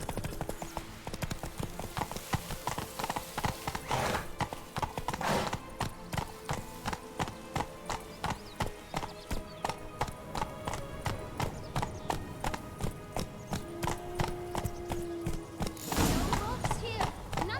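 A horse gallops in the video game The Witcher 3, with steady rhythmic hoofbeats pounding throughout while characters talk over them.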